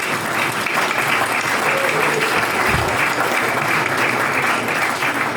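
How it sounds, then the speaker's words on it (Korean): A banquet audience at a Korean association's founding ceremony claps steadily and fairly loudly, a continuous dense patter that holds evenly throughout without voices over it. "여러분 다시 한번 박수로 응원해 주시겠어요?"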